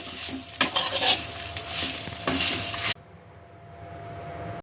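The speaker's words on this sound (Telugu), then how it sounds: "కరివేపాకు పచ్చిగా ఉంటుంది కదా, కరివేపాకు వేగాలి" Curry leaves, garlic and tamarind fry and sizzle in a pan while being stirred, with a steady crackle and scraping strokes that stop abruptly partway, leaving a faint quiet hiss.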